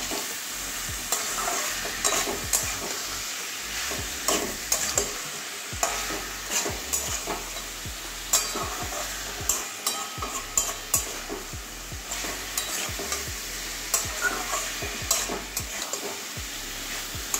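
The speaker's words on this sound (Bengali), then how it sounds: "ধুয়ে রাখা সয়াবিনটা দিয়ে দেবো। আবারও কষিয়ে নেবো ভালো করে।" Soya chunks are stir-fried in a pan with half-cooked sweet potato, making a steady close sizzle punctuated by frequent rhythmic spatula scrapes and knocks against the metal.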